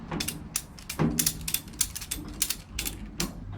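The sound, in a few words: ratchet strap being ratcheted tight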